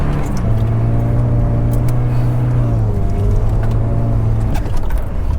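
A Volvo 740 drifting on Swedish snow revs hard, its engine note holding high, dipping through a flat-foot shift and climbing again, close and loud over constant road and wind noise.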